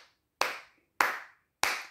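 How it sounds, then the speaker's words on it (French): Three sharp, isolated hand claps, spaced roughly half a second apart, each crisp and close with a quick decay into silence. "Commencez à vous applaudir."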